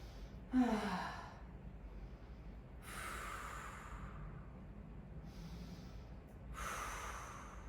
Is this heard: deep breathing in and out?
yes